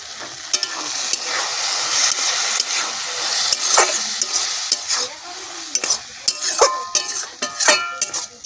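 Shapla water lily stems fry with ground spice paste while being stirred, a close steady sizzle broken by scraping strokes and light clinks of the utensil against the pan, with no talking.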